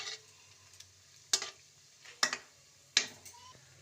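Kaudi biscuits are gently turned in a pan with a spoon, giving three distinct scraping clinks spaced about a second apart over a faint low hum, close and fairly quiet.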